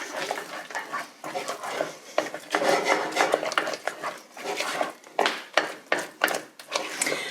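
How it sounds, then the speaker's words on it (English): A cheese soufflé sauce seasoned with nutmeg and pepper being stirred in a pan: quiet, uneven scraping and rubbing strokes in irregular bursts, some quick and sharp, with short pauses between and no voices. "And now we're going to stir this."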